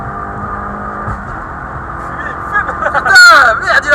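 A car accelerates hard on the wet Nürburgring circuit, its engine note climbing and then surging loudly near the end, with people talking over the engine.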